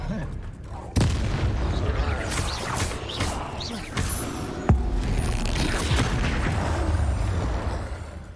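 Explosive Bombarda spells in the Hogwarts Legacy video game land as sharp, booming impacts at irregular intervals over a dense, continuous wash of game sound.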